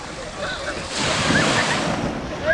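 Sea waves wash onto Bang Saen beach in Thailand, a steady broadband surf roar with wind buffeting the microphone, faint distant voices of people in the background.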